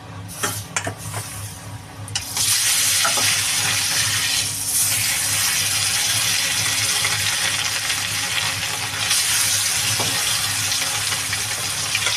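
A large wok on a gas stove turned down low, giving a loud, steady sizzling hiss that swells after a few clattering knocks and carries on without pause.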